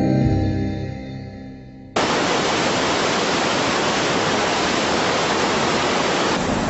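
Loud, steady roar of a waterfall on a river during a whitewater rescue, a dense unbroken rush of water that cuts in abruptly after a quieter opening and holds constant to the end.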